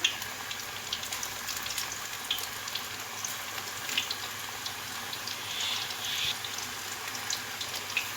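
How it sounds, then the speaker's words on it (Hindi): Spinach and onion pakoras frying in hot oil in a home kitchen give a steady, moderate sizzle with fine crackles throughout, heard alone without talk. "अब इसी तरह से मैं जो बाकी मसाला है इनको भी फ्राई कर लूँगी।"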